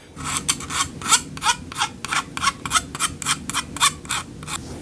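Close-up rasping as the rough textured plastic grip of a Hori Split Pad Pro Nintendo Switch controller is rubbed back and forth in about a dozen quick, rhythmic strokes, with no one speaking.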